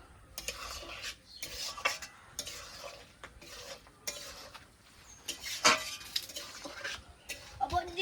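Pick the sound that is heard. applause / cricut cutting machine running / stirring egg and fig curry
stirring egg and fig curry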